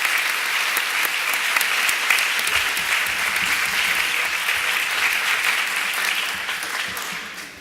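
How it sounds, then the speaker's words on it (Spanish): Applause from the audience at a talk on religious vocation in Bilbao, dense and steady clapping from a sizeable crowd that holds an even level, then tapers slightly toward the end, with no voices on top. "Muy bien, un aplauso."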